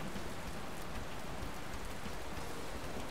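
Heavy, unbroken rain in the video game Pokémon Alpha Sapphire, a dense, even roar of downpour that fills the whole stretch with no voices or breaks.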